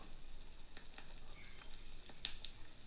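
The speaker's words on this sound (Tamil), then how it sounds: "நாம் கட் பண்ணி வச்சுருக்கிற பாகற்காயை சேர்த்து வதக்கலாம்" Bitter gourd sautés in oil with onion and garlic, giving a steady soft sizzle and frying hiss with a few faint stirring clicks, and no talking.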